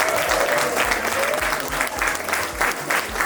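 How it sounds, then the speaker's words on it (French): Wedding guests at a town hall in Cesson break into steady, dense applause as the bride arrives, the clapping close and continuous throughout. "s'il vous plaît, on applaudit."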